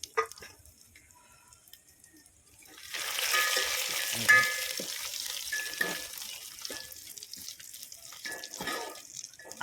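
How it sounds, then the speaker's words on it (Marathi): Grated coconut roasts in oil in a pan while cooking vajadi rassa, starting quiet before a loud sizzle and crackle rises about three seconds in and holds steady, with stirring scrapes underneath. "खोबरं बी मस्त असं खरपूस भाजून घ्यायचं"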